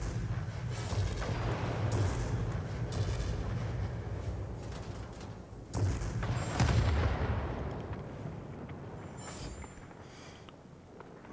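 Ta 152 fighter aircraft guns firing in a video game, dense rapid bursts over a continuous engine roar, with a louder burst midway, no talking.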